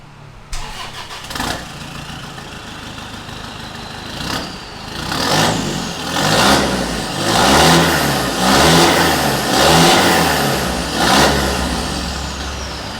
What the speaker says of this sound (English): exhaust on diesels, it's a weird sound